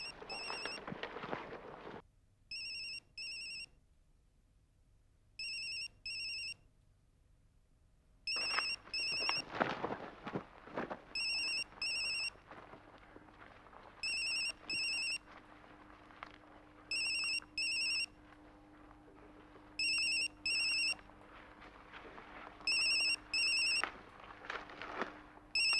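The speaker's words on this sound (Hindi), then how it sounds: "बेल बज रही है।" A mobile phone rings in repeated electronic double bursts that recur steadily under a tense dramatic background score and a brief loud swell.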